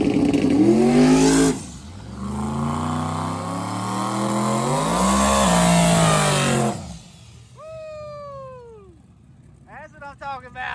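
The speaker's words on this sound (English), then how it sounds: "the Mustang about bunny hopped out of the hole for the burnout" A Mustang at a drag strip does a burnout and launch, its engine roaring loud with rising and falling revs that cut off abruptly, followed by sharp high chirping squeals.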